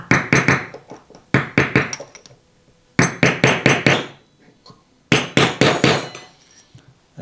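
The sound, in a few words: hammer tapping out a wheel hub bearing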